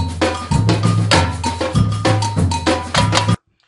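A samba reggae percussion groove with the caixa snare muted: booming surdo-style drums and a ringing cowbell-like bell strike in a loud, driving repeated pattern, stopping abruptly before the end.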